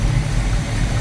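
A 1971 Plymouth Cuda engine idles close by with a deep, steady low rumble and vibration, running unevenly but continuously with no voices.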